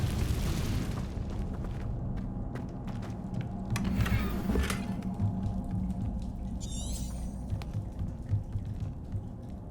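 A Confringo blasting spell in Hogwarts Legacy goes off with a heavy, rumbling explosion amid continuous game noise, with a sparkling magical burst in the middle and a bright chiming flourish after it.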